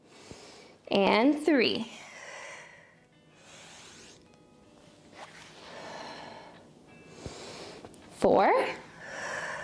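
Deep breaths are drawn in and pushed out during a Pilates core and pelvic floor exercise, with a few sharp, loud exhales and softer breaths between them, and a voice counts reps out loud.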